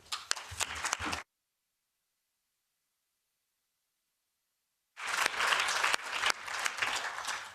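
Audience clapping at an anti-racism and diversity week event, two bursts of moderate applause separated by about four seconds of total silence, the second burst fuller and more sustained.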